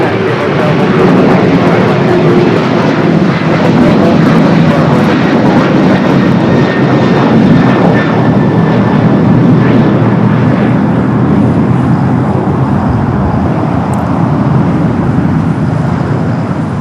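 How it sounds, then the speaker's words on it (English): Boeing 737-800 jet taking off from LAX, bound for Reagan National: a loud, steady engine roar filling the whole stretch, with no voices over it. "That was a flight heading to Reagan National on that 737-800"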